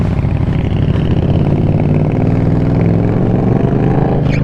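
A Kawasaki Z650 motorcycle with a newly fitted aftermarket exhaust revs hard nearby, giving a loud, throbbing engine tone that climbs toward the end.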